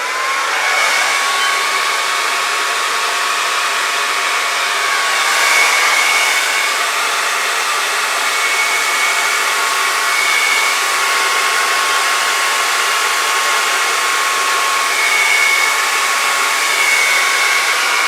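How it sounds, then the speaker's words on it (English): A hair dryer blows continuously at close range over Dutch-poured fluid acrylic paint, a loud, steady whirring rush with a faint whine that barely changes. "I'm just not used to the blow dryer."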